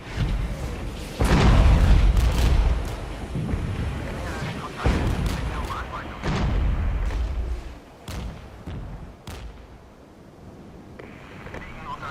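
Artillery firing in the wartime strategy game Regiments, heavy booms with rumbling tails at irregular intervals, loud and fairly close, with a voice talking at times between the blasts.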